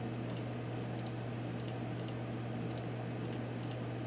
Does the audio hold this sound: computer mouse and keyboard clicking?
yes